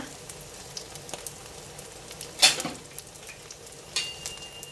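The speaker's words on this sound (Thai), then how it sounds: "หอยทอดให้กรอบๆค่ะ" Crispy oyster omelette (hoi tod) fries on a hot pan with a soft, steady sizzle, broken by a sharp spatula scrape near the middle and a few light clicks.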